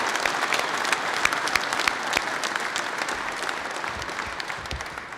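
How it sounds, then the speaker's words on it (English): Sustained applause from a crowd gathered at a motorcyclists' rights rally, steady dense clapping filling the whole stretch at moderate loudness with no voices over it. "So give yourselves a round of applause."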